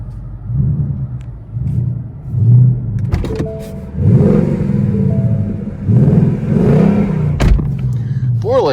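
A stock 2019 Ford Mustang GT set in track mode starts up and revs, its V8 rumble rising and falling in several throaty surges close by, with someone talking over parts of it.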